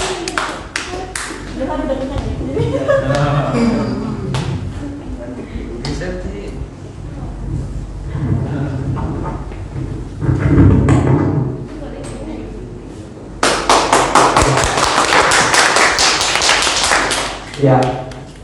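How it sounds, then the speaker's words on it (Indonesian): A church youth worship congregation bursts into loud applause after talk, the clapping dense and sustained for several seconds near the end. "tepuk tangan semua"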